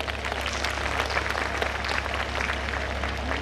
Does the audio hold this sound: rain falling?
no